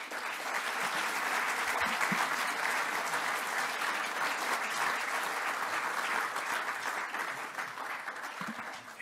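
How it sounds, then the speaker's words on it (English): Steady, dense applause from a lecture audience at the University of Surrey, many hands clapping together for about nine seconds at moderate volume, with no speech over it. "please give you a round of applause to Roland"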